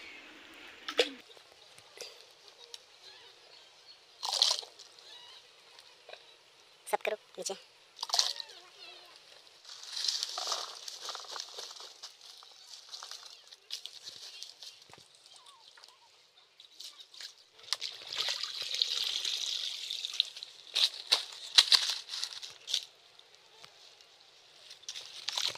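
Freshly pulled carrots are washed by hand in a bucket of water outdoors, with intermittent sloshing, splashing and dripping in uneven bursts, and faint voices in the background.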